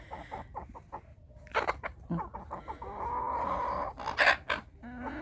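Several Chinese Silkie chickens cluck and call nearby in irregular bursts, with a louder squawk near the end and faint background noise.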